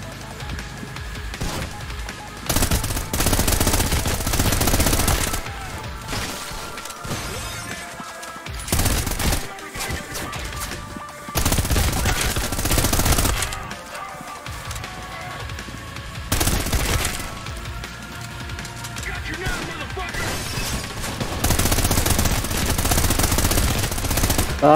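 Heavy bursts of machine gun fire in the video game Trepang2, loud sustained volleys broken by short pauses, the firing dense and close throughout.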